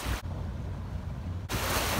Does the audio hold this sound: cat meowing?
no